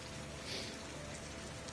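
Steady rainfall in the video game Heavy Rain, a constant soft hiss of drops on surfaces at low level, uninterrupted and without voices.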